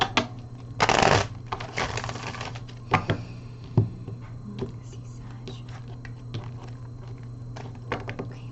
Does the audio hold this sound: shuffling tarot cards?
yes